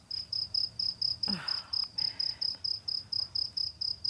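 A cricket chirps in steady, evenly spaced pulses, a sharp high trill repeating about four times a second, with a brief soft rustle partway through.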